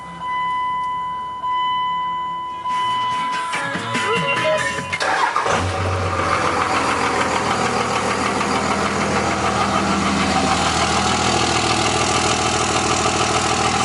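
A 2002 Ram Cummins diesel truck with aftermarket RBP exhaust cold-starts after a few seconds of warning chimes and cranking, then settles into a loud, close, knocking diesel idle.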